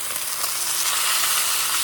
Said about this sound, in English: It's gonna be a nice sear on the meat.